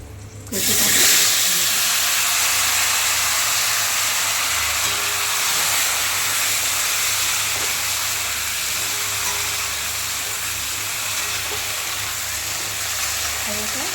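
Taro (kochu) frying in hot oil with a dry red chili tempering gives a loud, close, steady sizzling hiss that runs unbroken throughout.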